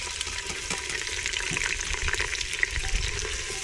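Finely chopped onions fry in hot oil, giving a dense, steady hiss and crackle that stays close and even throughout, with no speech.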